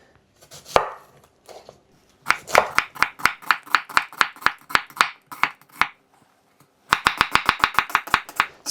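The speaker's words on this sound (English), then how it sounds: "Let's cut the onion first rather than the pak choy." A knife chops an onion on a board in quick, sharp, close taps, a few scattered cuts at first, then a steady rapid run, a pause, and another fast burst, with no talk.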